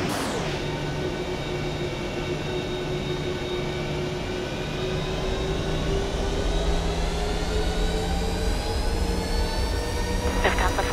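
Ryanair jet airliner engines spooling up to takeoff thrust in a flight simulator game, a loud steady roar with rising whine tones that holds throughout, while voices talk over it.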